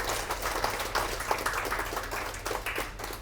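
Moderate, somewhat distant clapping from an audience at a Tamil book release event, honouring a guest, scattered hand claps over a low steady hum.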